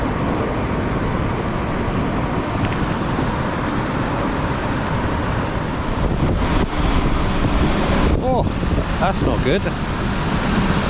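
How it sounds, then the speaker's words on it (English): Strong wind buffets the microphone in a constant roar while fishing from a belly boat on the River Thames at Chertsey Lock, with a brief spoken remark near the end. "Windy."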